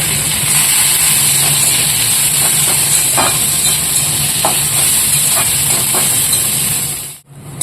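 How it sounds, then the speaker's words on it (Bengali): Leaves frying in a hot pan for a Bengali home-cooked lunch, giving a steady close sizzling hiss with a few light stirring clicks, then cutting off abruptly near the end. "প্রথমে এই পাতাটা ভালো করে ভেজে নিতে হবে"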